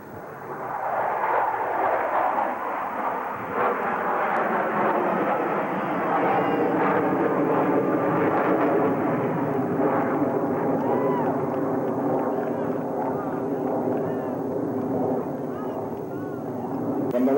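Blue Angels jet aircraft performing a vertical break at an air show, a loud sustained roar of jet engines that holds steady throughout, with a public-address announcer speaking over it.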